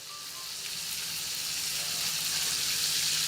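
Salted red fish pan-fried until golden on both sides, a continuous close sizzle and hiss of hot oil that grows slightly louder, with no talking.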